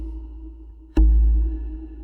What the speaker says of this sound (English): that's a bit of reverb